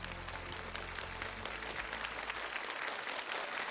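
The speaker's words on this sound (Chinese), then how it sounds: "掌声感谢我们5位厨师" An audience applauds the five chefs at a Chinese New Year television gala, a dense, steady wash of clapping that fills the hall continuously with a low hum beneath it.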